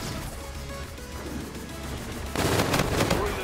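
Rapid automatic fire from an RPR EVO gun in SMG mode in a video game, a dense loud burst of shots rising sharply partway through over a steady busy game background.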